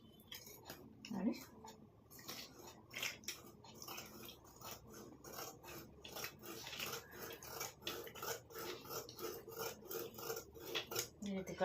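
Scissors cut plain blouse fabric for a size 44 blouse, giving quiet rubbing and snipping sounds that turn into a steady run of soft rhythmic snips near the end.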